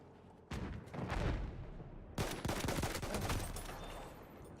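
Gunfire in a competitive first-person shooter match: sharp rifle shots followed by a rapid automatic burst, fairly faint and distant, with little talk over it.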